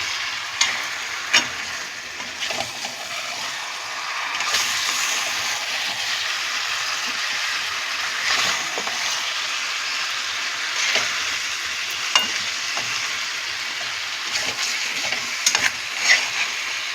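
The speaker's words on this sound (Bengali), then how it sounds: "আমি ঢাকাটা খুলে একটু মাংসটা উপর নিচ করে দিচ্ছি" Goat meat cooked in ground spice paste sizzles in an uncovered pot while being turned over, with a continuous hiss and irregular scraping and clinking strokes of the spoon.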